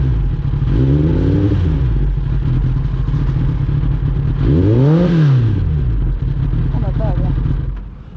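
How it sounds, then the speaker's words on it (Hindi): A Kawasaki ZX-10R motorcycle engine idles loudly up close, rising in two brief revs, with voices talking over it. "तो अभी ZX ट्रेनर का आइडल RPM सुनाएंगे गाइस।"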